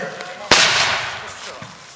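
A single sharp musket shot cracks out at a battle reenactment in Parcice, a loud close report that trails off into a brief rumbling echo, with voices faintly around it.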